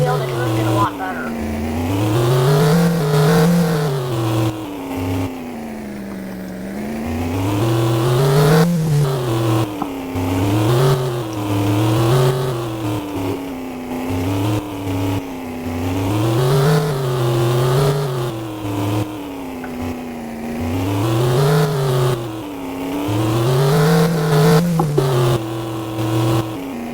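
A Rivett rally car is driven hard and drifted, its engine revving up and down in steady repeating swells across the whole stretch, close and loud, with a voice talking over it.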